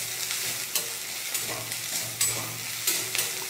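Finely chopped pale green chillies fry over high heat for an egg dish, a soft sizzle broken by several sharp stirring knocks of a spoon against the pan.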